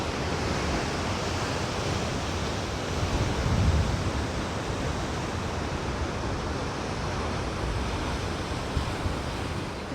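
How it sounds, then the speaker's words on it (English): Ocean surf along the Bondi coastal walk in Sydney roars as a continuous, broad wash of crashing waves mixed with wind buffeting the microphone, loud and unbroken with no voices. "Checking out the waves."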